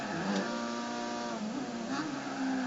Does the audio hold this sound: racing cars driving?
yes